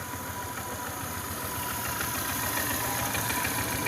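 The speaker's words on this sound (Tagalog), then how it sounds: "papainit lang ako ng motor" A motorcycle engine idles while warming up outdoors, a close, steady mid-pitched putter with a constant vibrating drone that grows slightly louder toward the end.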